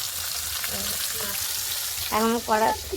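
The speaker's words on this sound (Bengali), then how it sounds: "মাছ ভাজা হচ্ছে।" Fish frying in oil in a wok gives a steady broadband sizzle throughout, with a voice speaking briefly over it near the end.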